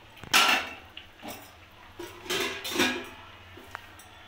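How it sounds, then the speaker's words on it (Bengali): A metal lid lifted off a kadai of boiled chicken, giving a sharp clang followed by a few lighter clinks and scrapes of metal on metal, close and clear with no talk. "ঢাকনিটা খুলে দেখে নেব।"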